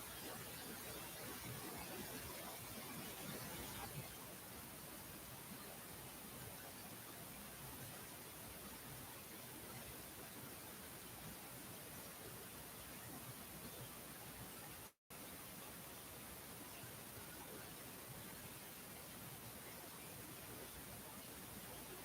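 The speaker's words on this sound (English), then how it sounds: "Well, I can hear it raining like crazy outside." Heavy rain pours steadily outside at night, a dense, constant hiss that stays even and unbroken for the whole stretch, with no voices over it.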